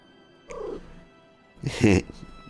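A cat in the game Final Fantasy XIV gives two short vocalizations about a second apart, a brief mew followed by a louder, throaty caterwaul, against a quiet, faintly humming background.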